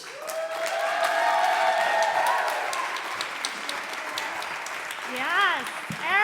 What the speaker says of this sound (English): Please give a nice big round of applause to Kay